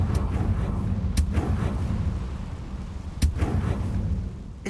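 Booming blasts from a Confringo spell in a Harry Potter video game go off in a few sharp bursts over a dense rumbling background, spaced irregularly across several seconds.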